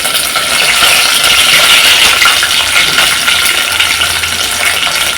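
Sliced onions, green chillies and coriander leaves hiss and crackle in hot oil for Kovai-style chicken kulambu, a loud, steady, close-up sizzle with no talking.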